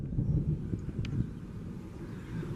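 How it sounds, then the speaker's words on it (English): Gusty wind rumbles steadily against the microphone during a lightning storm, a low buffeting roar that swells and eases throughout without pause. "Oh, it's windy."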